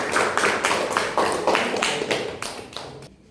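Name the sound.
audience applause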